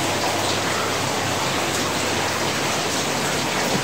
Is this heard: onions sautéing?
no